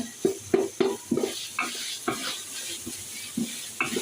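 Chicken with green chilies is stir-fried in a pan: rhythmic scrapes and knocks of a spatula repeat roughly every half second over a constant close sizzle, with no talking.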